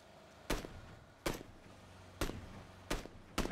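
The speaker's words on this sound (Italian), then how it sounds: "A chi spari, oh?" Five sharp gunshots ring out in PUBG, spaced irregularly over a few seconds, each a crisp, fairly loud crack against a quiet background.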